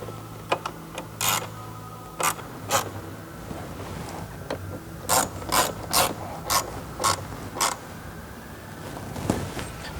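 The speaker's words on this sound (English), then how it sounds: "now we're going to go ahead and secure down these 4 hose clamps" Ratchet clicking in short bursts while tightening four hose clamps on a Delta Force cold air intake for a 5.7L/6.1L Dodge Charger, Challenger, Magnum or 300C, about a dozen quick close ratchet strokes over a quiet garage background.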